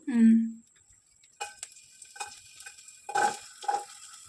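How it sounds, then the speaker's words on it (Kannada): Mustard seeds in hot oil for tempering give quiet, scattered bursts of crackling and sizzle after a brief low hum at the start. "ಸಾಸಿವೆ ಹಾಕ್ತೀನಿ, ಒಂದು 2 ಹಸಿಮೆಣ್ಸಿಕಾಯಿ ಹೆಚ್ಚಿಕೊಂಡಿದ್ದೀನಿ, ಒಂದೆರಡು ಈರುಳ್ಳಿ ಹೆಚ್ಚಿಕೊಂಡಿದ್ದೀನಿ."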